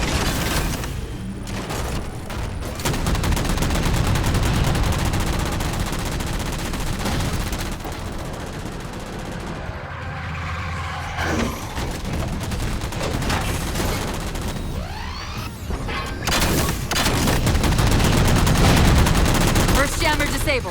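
Dense, sustained gunfire from a Halo 4 firefight against jammers, rapid automatic bursts and booms layered loudly over the whole stretch with busy game effects and occasional voices.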